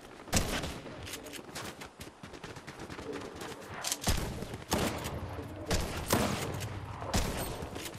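Rapid bursts of gunfire in the Fortnite video game, loud and dense, with repeated volleys and sharp shots throughout and a faint voice now and then.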